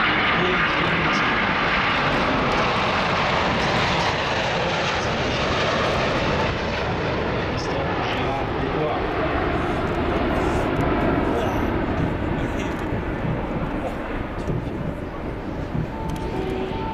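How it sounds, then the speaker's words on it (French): Loud, continuous roar of an Airbus A380 taking off at full power at the 2015 Paris display, steady and broadband, filling the whole stretch without pause. "125 tons of power, taking off now. A380."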